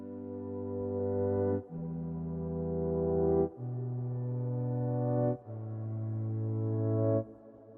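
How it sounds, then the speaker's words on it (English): Reverse piano from a progressive house breakdown: four swelling chords, each rising in loudness and cutting off sharply before the next, sustained and tonal with no voices. "followed by the reverse piano"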